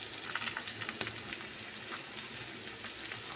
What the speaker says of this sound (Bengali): আলুটা একটু ভাজবো এবং এর সাথে আমি এর পাশে একটু কাজুটাও দিয়ে দেবো, অল্প করে কাজুটাও ভেজে নেব